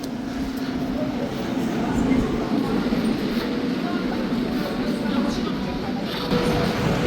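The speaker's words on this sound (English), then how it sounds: "that is my train through there" Steady low rumble of a train at a railway station in Gyumri, Armenia, a continuous rolling drone with faint rattling, loud and close.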